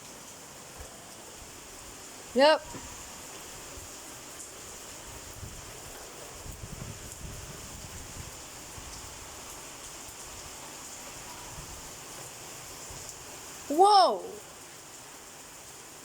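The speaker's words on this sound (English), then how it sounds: "It's raining. Really, really, really hard." Heavy rain pours steadily during a thunderstorm, a dense, even hiss that fills the whole stretch, with two short spoken exclamations rising above it.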